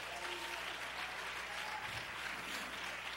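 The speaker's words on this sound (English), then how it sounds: "Clap your hands to the Lord." A church congregation claps their hands during worship, sustained crowd clapping with a faint low hum beneath, continuous and fairly distant.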